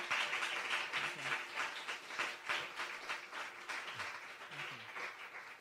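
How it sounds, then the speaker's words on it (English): An audience applauds at the end of a talk with a photographer, a sustained wash of many hands clapping, moderately distant and fairly quiet. "let's give a round of applause to Olivo"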